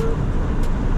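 BMW 335i with the N54 engine, freshly fitted with new coils, spark plugs and injectors, driving along, heard as a loud, close, steady engine and road rumble over one brief second.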